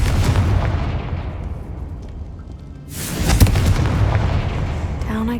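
A Confringo explosive spell from Hogwarts Legacy bursts loudly in a video game, a sudden booming blast followed by a rumbling, crackling tail that fills the rest of the moment.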